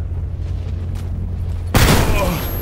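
Grenade exploding in Stalker GAMMA: a sudden loud blast cuts in after a low steady hum and decays into a broad rumbling wash for the last second.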